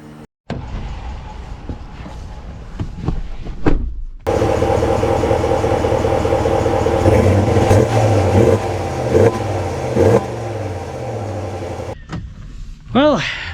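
A Ram 1500 Rebel pickup with the Hemi V8 engine drives along, its steady engine drone and road noise loud and continuous for most of the clip after a brief quiet start with a few knocks.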